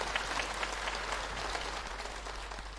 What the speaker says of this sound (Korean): 자, 우리 박수로 맞이합시다.